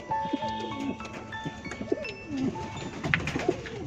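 Roman pigeons at close range give repeated soft, rolling coos in a loose rhythm, with faint background noise and a few higher chirps.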